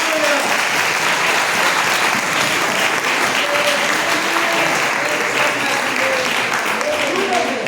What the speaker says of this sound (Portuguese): A senhora agradece a oportunidade e as palmas logo agradece o Senhor.